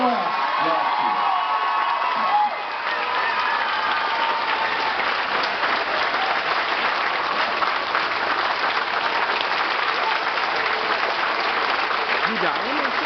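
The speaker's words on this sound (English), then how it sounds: "let's hear a big round of applause for everything Adam West brought to us" A crowd at a Superman celebration fan event applauds loudly for Adam West, sustained clapping mixed with cheers and whoops, with voices audible in the hall.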